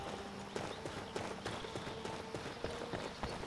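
Hooves of a very fast horse galloping in Skyrim with the Helgen Reborn mod, a steady, rapid clip-clop rhythm of sharp hoof strikes over a continuous ambient game background.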